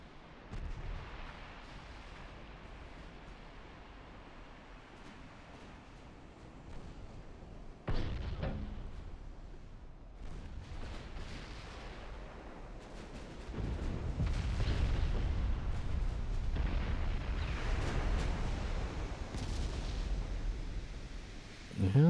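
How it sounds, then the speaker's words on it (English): Naval guns firing in a 1917 sea battle in Ultimate Admiral: Dreadnoughts, with heavy booms and sharp blasts landing irregularly over a low rumble that swells into a sustained barrage, a voice talking faintly at times. "Yeah, the guns are doing their job."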